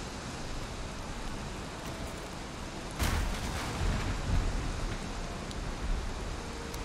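Rain falling in the video game Valheim, a steady dense hiss of downpour that swells louder partway through, with no talk over it.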